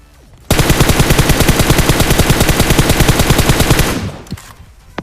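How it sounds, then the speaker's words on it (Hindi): Dense automatic gunfire in a video game battle, a continuous rapid burst lasting several seconds, loud and close, then cutting off with faint scattered shots afterward; no speech. "अब जो गोलियों की आवाज आ रही है वो भैया यहीं से आ रही है"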